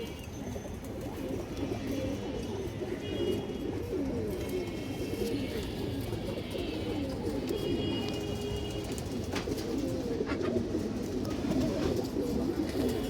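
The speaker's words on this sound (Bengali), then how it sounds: "খুব সুন্দর একটা কবুতর দর্শক অনেক চঞ্চল কবুতরটা" A loft of old-breed fancy pigeons coos continuously, with layered throaty calls overlapping near and farther off and a few higher chirps over a steady, low background.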